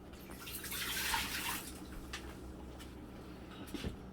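Two cups of apple juice pour into a Ninja Foodi pot as a soft, quiet liquid splash and gurgle that swells and then fades, ending with a faint clunk.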